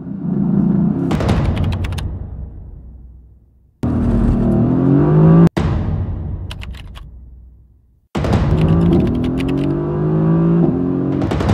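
Engine sound effects for a Mercedes car, in two loud bursts of revving with rising pitch that each fade, then a third sustained rev, separated by brief silences.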